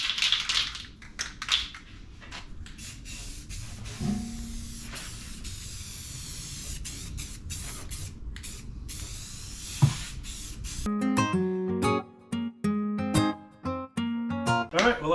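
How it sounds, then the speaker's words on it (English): A steady hiss of gloss black Rust-Oleum aerosol spray paint sprays continuously for several seconds, with a few clicks, then gives way to light tapping sounds. "Using a gloss black Rust-Oleum spray paint."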